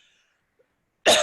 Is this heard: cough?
yes